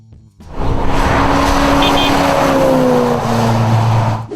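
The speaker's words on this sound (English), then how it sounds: "1969 Plymouth Roadrunner" A 1969 Plymouth Roadrunner muscle car with a 426 Hemi V8 roars loud and close after a brief quiet start, its engine note rising in a steady, sustained pull.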